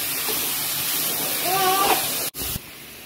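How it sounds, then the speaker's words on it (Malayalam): Mint and coriander leaves sizzle in hot masala for rabbit biryani: a steady, close frying hiss that swells briefly, cuts out sharply for a moment, then resumes. "നമുക്ക് ഈ ഇലകളൊക്കെ നന്നായി ഒന്ന് വഴറ്റിയെടുക്കാം"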